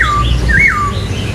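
A caged songbird, a Vietnamese laughingthrush kept as a singing bird, gives loud, close, rising and falling whistled notes in a brief phrase, with no talk.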